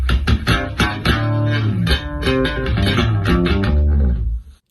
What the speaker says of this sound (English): We had our bass guitar really grinding throughout the song, really pushing the excitement of the song.